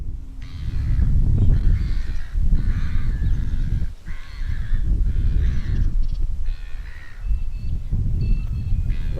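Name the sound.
birds calling at the Coorong wetland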